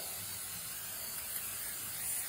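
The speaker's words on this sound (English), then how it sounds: "this is like undercoating in a can." Aerosol can of textured undercoating spraying on a car body, a steady close hiss running unbroken through the moment, with no speech.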